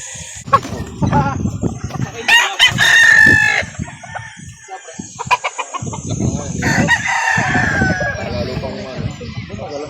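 Roosters crow loudly and chickens cluck close by at a chicken market, with busy voices talking over and between the calls.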